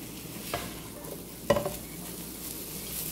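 Onion fries in butter and olive oil with a soft, steady sizzle, broken by a couple of brief stirring scrapes and taps, close and fairly quiet.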